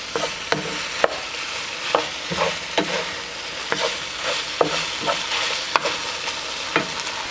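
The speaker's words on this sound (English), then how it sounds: "Now I'll put this back on the burner and mix it." A utensil scrapes and taps repeatedly, stirring chicken in a sizzling pan on a burner, rhythmic strokes over a steady frying hiss.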